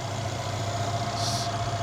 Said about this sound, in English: So the engine sounds really good